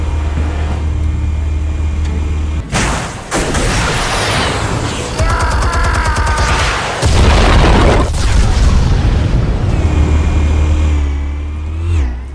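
Explosives go off in the Batman Telltale Series video game, a run of heavy booming blasts with crackling bursts over a low rumble, close and loud, followed by a whooshing rush and debris.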